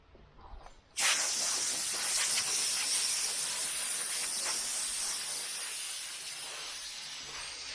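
Compressed air blowing down an old aluminum boat during restoration bursts on suddenly after a quiet second and keeps up a loud, continuous, close-up hiss to the end.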